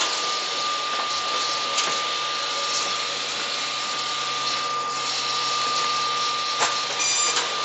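A Standard Horizon BQ-480 perfect binder runs with its cover feeder feeding sheets, giving a steady, loud mechanical whir and hum with a constant high tone and occasional clicks and thumps, no talking.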